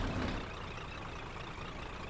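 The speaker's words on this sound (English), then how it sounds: "Keep stalling the engine when I try and creep up the hill." Heavy Scania T truck in Euro Truck Simulator 2 struggling up a hill under heavy load, its engine a steady low rumbling drone with a brief louder throb at the start.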